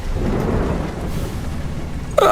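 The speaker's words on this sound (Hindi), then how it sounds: "बिजली चमकती है, जोरदार बारिश शुरू हो जाती है।" Cartoon thunder and heavy rain in a story about a poor farmer's field: a loud, continuous low rumble with dense noise that runs throughout and ends in a sharp burst.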